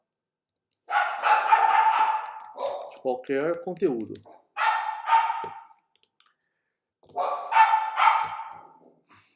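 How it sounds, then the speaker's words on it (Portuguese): Dogs give a short burst of whining barks indoors, set among steady Portuguese talk from someone speaking close by. "São minhas cachorras."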